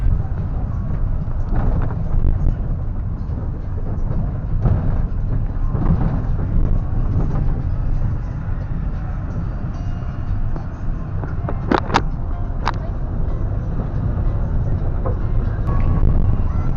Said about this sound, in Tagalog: dito na tayo sa loob ng sasakyan na bus